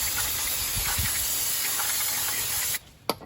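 Aerosol brake cleaner sprays onto the front brake rotor of a 2012 Chrysler Town & Country in a long, steady hiss, then cuts off, followed by a short burst and a faint click.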